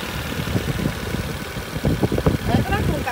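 A 2007 Kia Morning manual small car engine idles with a low, steady rumble and faint rhythmic knocking, fairly quiet and close.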